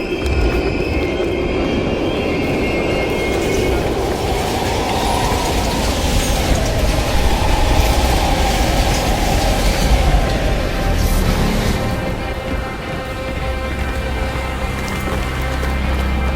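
A train rolls past in a video game set at abandoned stations in Berlin, producing a loud, steady mechanical rumble with rattling, clanking wheels and metallic squeals that slowly fade toward the end.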